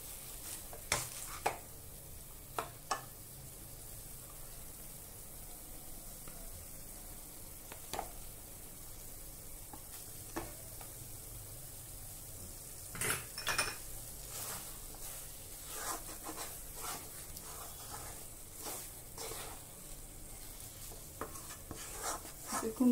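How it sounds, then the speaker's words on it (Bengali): Chhena and kheer are mashed and mixed with a masher in a wok, giving a quiet, steady background with repeated soft thuds and scraping knocks of metal against the pan. "আমি ম্যাশারটা দিয়ে একটু ভালো করে মিশিয়ে নিচ্ছি, যাতে মসৃণ হয়।"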